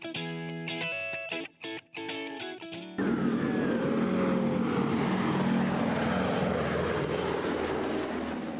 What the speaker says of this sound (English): That's the rumble of 4 T-6 Warbirds over the Crystal Airport open house on Sunday.